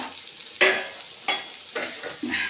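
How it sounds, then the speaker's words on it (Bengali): Bitter gourd and potato frying together in a pan, with four sharp bursts of sizzling and scraping as the vegetables are stirred, each fading quickly into a soft hiss. "এইদিকে উচ্ছে আলু সব কিছু দিয়ে সবজি দিয়ে ভাজা হচ্ছে"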